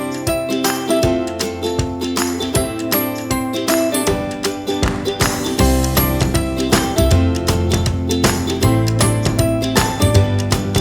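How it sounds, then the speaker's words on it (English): A sewing machine runs steadily, its rapid mechanical ticking and clatter continuing throughout as it stitches striped quilt fabric pieces. "At my sewing machine, using a 1/2 inch seam allowance, I sew along the edges of the 2 striped pieces."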